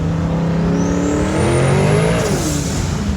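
A Ford Mustang S550 fitted with an On3 top-mount twin turbo kit pulls hard in second gear from about 60, its engine note climbing steadily with a rising turbo whistle, then a quick drop as the throttle lifts.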